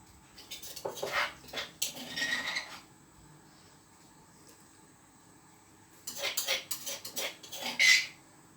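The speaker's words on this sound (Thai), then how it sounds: "คุณย่าก็จะผัดเครื่องแกงให้หอม" Stir-frying Thai curry paste in oil in a pan: bursts of scraping and clinking of a utensil against metal, separated by a quiet pause, fairly close.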